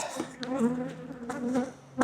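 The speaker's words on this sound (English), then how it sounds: "because these bees are so antsy right now" Agitated honey bees buzzing close by inside a nuc hive during removal of Apivar strips, a dense wavering drone with individual bees whining past, no talk.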